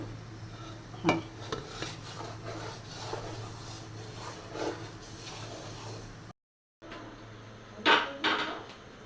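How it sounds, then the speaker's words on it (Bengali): Semolina being stirred and fried in ghee for halwa, light scraping and clinking of a spoon against the pan over a faint hiss, close and quiet, with a brief gap of silence before more scraping. "সুজিটা এখন ভালো করে ভেজে নিব। এখন একটু ঘি দিয়ে দিচ্ছি সুজির মধ্যে।"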